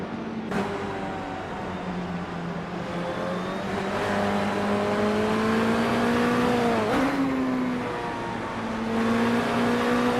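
A 2014 Dallara IL-15 race car engine howls at a steady high pitch during a race, loud and close, sagging and rising slightly with a brief shift near the end and no voices.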